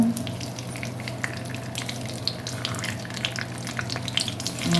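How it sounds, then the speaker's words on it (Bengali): Dried red chillies and bay leaves crackle and sizzle in about two spoons of hot oil as a tempering for a spiced potato dish, a steady close-up frying hiss with scattered pops and no voices. "এবার আমি ফোড়ন দিয়ে দেবো, শুকনো লঙ্কা, তেজপাতা"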